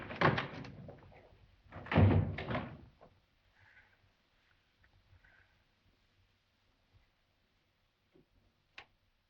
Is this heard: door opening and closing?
yes